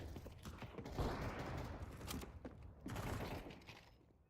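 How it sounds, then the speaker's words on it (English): A grenade blast in Counter-Strike 2 gameplay, heard as a loud burst of crackling, rattling noise followed by a second wave of debris-like clatter that fades out toward the end, with no talking. "this is the nade hit"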